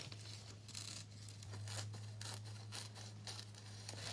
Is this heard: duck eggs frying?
no